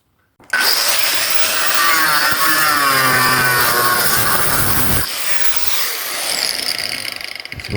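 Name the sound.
angle grinder cutting on Opel Manta restoration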